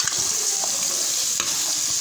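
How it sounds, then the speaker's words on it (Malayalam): Sliced onions sauté in hot oil in a pan, giving off a steady, close sizzle with the light scrape of stirring now and then. "എണ്ണ ചൂടായി നമ്മളിനി ഉള്ളി വഴറ്റാൻ പോകുന്നത്."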